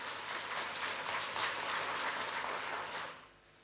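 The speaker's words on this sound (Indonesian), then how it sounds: "Kita berikan tepuk tangan untuk orang tua kalian" An audience at a university graduation ceremony gives sustained applause in honour of the graduates' parents, a steady wash of many hands clapping in a large hall that stops abruptly near the end.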